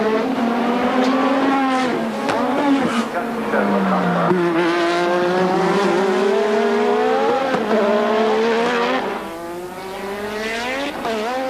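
A Formula One car with a tuned high-horsepower engine in practice at the 1986 Australian Grand Prix, screaming loudly as it revs up and down through gear changes, close and sustained throughout.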